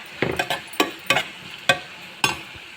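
Spices for dal tadka, including garam masala, chili powder and turmeric, being sautéed and stirred in a pan, with about six short scraping, sizzling bursts in an uneven rhythm, close and moderately loud.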